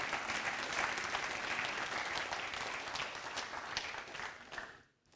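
A church congregation applauding, a dense, fairly distant wash of clapping that holds steady and then fades out at the end.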